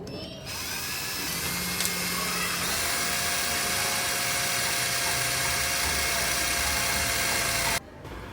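Power drill boring holes in steel rods for a lift mechanism, a steady high whine running continuously for most of the stretch before cutting off near the end.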